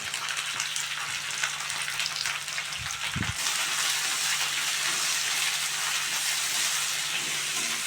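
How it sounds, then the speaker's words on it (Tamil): Cleaned leaves go into hot oil with sautéed garlic and onion, a continuous close frying hiss that thickens and brightens after a brief clatter partway through, the sizzle staying loud to the end without any talking. "பூண்டு வெங்காயம் வதங்கிருச்சு. அது கூட நம்ம க்ளீன் பண்ணி வச்சுருக்க இலைகளை சேர்த்துக்கிறோம்"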